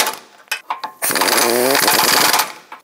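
A loud power tool snugs bolts on the front bumper impact absorber of a 2014-2021 Mazda 6, a few short bursts followed by one sustained whirring run, right up close.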